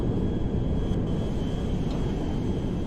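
A C-17A Globemaster cargo jet taking off in GTA 5, its engines producing a steady, loud, low roar that holds evenly throughout without a break.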